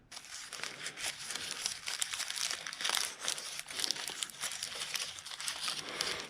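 Wax paper crinkles and crackles continuously up close as it is unwrapped from a new old stock Jaguar MKII wiper motor kit part.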